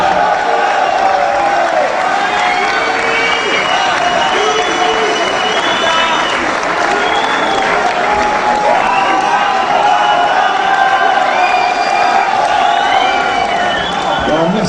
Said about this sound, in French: Donc ceux qui sont là, vous pouvez les applaudir très fort.